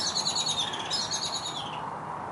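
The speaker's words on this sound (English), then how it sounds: "You can hear the birds." Several birds chirp and sing in bright, overlapping calls against a steady outdoor hiss, with no talking.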